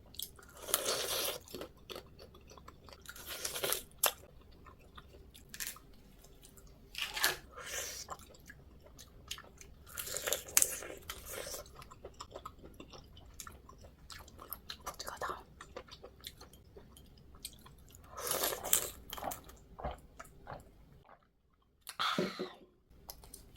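Close, crunchy bites and wet chewing of spicy mala crayfish with the heads removed, coming in irregular bursts of cracking shell and squishy mastication, with quiet pauses between mouthfuls and no talking.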